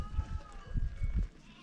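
A flock of around 300 sheep kept indoors in a snowbound village, many with newborn lambs, bleating in a low rhythmic cluster of repeated calls, close and moderately loud.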